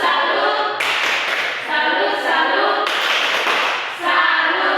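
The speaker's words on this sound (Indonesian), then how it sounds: "Tepuk salut." A classroom of children claps in a steady, dense round of applause that swells and dips in bursts, loud and close.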